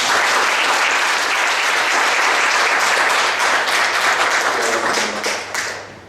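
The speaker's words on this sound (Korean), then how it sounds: "우리 박수로 환영하도록 하겠습니다" A church congregation at a Sunday service claps together to welcome returning guests, a loud, dense burst of many hands that runs steadily before tapering off at the end.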